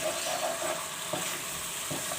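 Masala for an aloo dahi curry frying in a pan gives a steady, close sizzle, with a couple of soft stirring scrapes and no talking.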